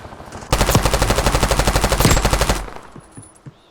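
Automatic gunfire in a shooter video game: a loud, close, rapid burst of about twenty evenly spaced shots lasting two seconds, then a short ringing tail fading into quiet.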